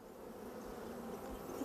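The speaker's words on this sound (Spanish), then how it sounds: "todas de raza abeja negra o abeja de Euskal Herria" Honeybees of the black Basque breed hum around a hive near Estella in a dense, steady swarm drone, quiet and continuous throughout.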